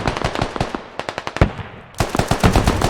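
Automatic rifle fire in the military shooter Squad: rapid, loud bursts of shots, a short pause, then another sustained burst, with no talk over it.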